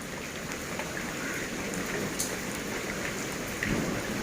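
Heavy rain pours steadily during a Kalbaishakhi storm with hail, a dense, continuous hiss of drops on surfaces close by, with a low rumble of thunder swelling briefly near the end.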